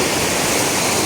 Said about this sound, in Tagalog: So napakalakas mga agaw at napakalamig po ng tubig dito.